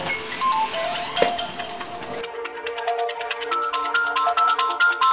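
A phone ringtone plays as a short, repeating electronic melody of bright pinging tones, loud and close, with no talking over it.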